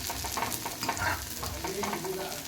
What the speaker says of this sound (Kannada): ಈಗ ಬೆಳ್ಳುಳ್ಳಿ ಒಗ್ಗರಣೆ ಹಾಕ್ತಿದ್ದೀನಿ